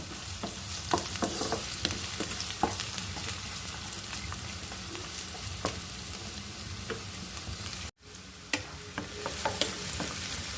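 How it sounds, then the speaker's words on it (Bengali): Carrots stir-fry in a hot pan for Chinese fried rice, giving a steady crackling sizzle with scraping stirs throughout. The sizzle drops out briefly near the end, then resumes. "এখন আমি দিয়ে দিব গাজরগুলি সব"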